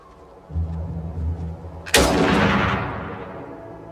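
In the video game Iron Harvest, a low engine hum gives way to a single sharp, loud rifle shot that rings out and fades over a couple of seconds.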